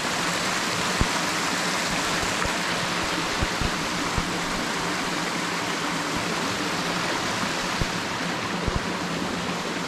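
A cold creek runs beside a rock edge, its steady broadband rush of flowing water filling the scene evenly from start to finish, close and continuous with a few faint clicks and no talking.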